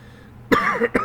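Two quick, close coughs with a brief gap between them, the second shorter than the first, with no speech.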